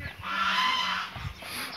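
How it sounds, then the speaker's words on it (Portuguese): A farm hen that has just hatched two chicks gives one sustained, nasal call lasting about a second, close by, followed by quieter rustling. "Vou filmar aqui essa galinha."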